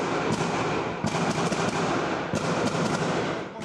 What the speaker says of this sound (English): came under a barrage of heavy gunfire